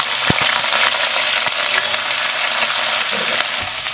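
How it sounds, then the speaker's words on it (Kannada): Green chillies and coriander leaves fry loudly in hot oil for sambar, a bright continuous sizzle right up close, with a few faint knocks of stirring and no speech. "ಇದೇ ಥರ ಫ್ರೈ ಮಾಡ್ತೀನಿ."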